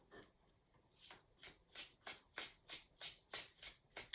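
An oracle card deck is handled with about nine quick, evenly spaced papery swishes, close and fairly quiet, in the steady rhythm of cards being shuffled before a draw.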